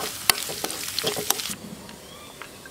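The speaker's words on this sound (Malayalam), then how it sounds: "ആവശ്യത്തിന് കറിവേപ്പിലയും ചേർത്ത് പച്ചമണം മാറുന്നതുവരെ വഴറ്റിയെടുക്കാം." Pork being sautéed with curry leaves and chopped garlic in a pan for Kerala-style pork roast, with a steady sizzle and sharp scraping stirs in the first half, then a quieter simmering hiss.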